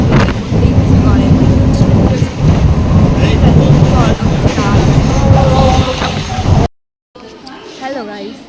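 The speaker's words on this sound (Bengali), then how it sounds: "আমরা তো বনগা থেকে ট্রেনে উঠে রানাঘাটে চলে এসেছি" A passenger train travelling from Bangaon to Ranaghat on a rainy day rumbles loudly and continuously along the rails in a dense, steady roar, then drops out briefly before a quieter stretch with voices mixed in.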